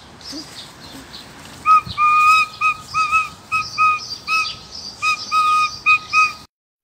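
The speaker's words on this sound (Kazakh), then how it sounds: "Сыбызғынды ойнамақ жан-жақты қуантайды." A sybyzgy, a Kazakh end-blown flute, plays a short, breathy melody of repeated high whistled notes with brief gaps, clear and close over a faint hiss, stopping abruptly.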